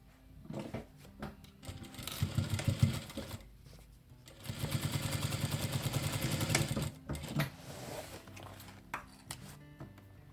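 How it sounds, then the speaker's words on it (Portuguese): Sewing machine stitching a tote bag, with two bursts of rapid, steady needle chatter, a shorter run near the start and a longer sustained run mid-clip, between quieter handling sounds. "Esse aqui eu vou costurar um pouco até aqui, depois vou deixar um palmo aberto e vou costurar o final"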